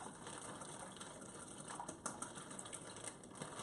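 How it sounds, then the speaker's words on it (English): Whisking a summer grilling marinade in a bowl: quick, faint, continuous rattling and clicking strokes of the whisk, close by and steady throughout. "So I'm just going to whisk this up."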